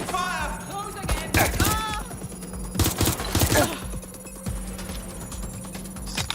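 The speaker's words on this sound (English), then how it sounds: "I'm taking fire." Rapid bursts of video game gunfire crackle in clustered volleys, loud and close, with quieter gaps between them during a live-streamed shooter match.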